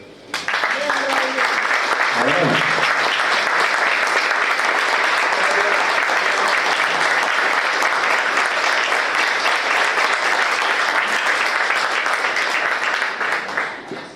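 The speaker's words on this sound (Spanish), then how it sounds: "pido un aplauso para él" Long, loud audience applause at a talk about Uruguayan popular song, a thick unbroken roar of clapping from a large room that holds steady before tapering at the end.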